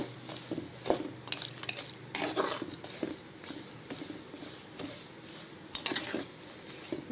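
A spoon stirs jaggery syrup in a pan on the stove, giving soft, irregular scraping and tapping against the metal. The sounds are quiet, close and alone, with no talking.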